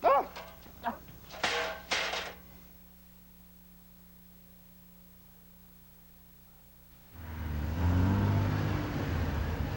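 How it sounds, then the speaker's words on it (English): A brand new Toyota Supra's engine revs. It comes in as a rising, broad, fairly loud roar near the end, after several sharp dog barks at the start and a quiet stretch. "A brand new Toyota Supra. A dream machine."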